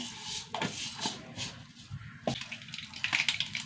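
Mustard seeds sputter and pop in hot coconut oil in a pan, making faint, soft sizzling with scattered small crackles, while preparing a cabbage curry.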